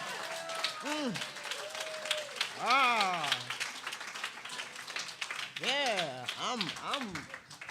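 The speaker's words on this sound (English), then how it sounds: "Can we give Warren another round of applause?" Church congregation at a Sunday celebration applauding for Warren, continuous clapping under rising and falling whoops and shouted voices.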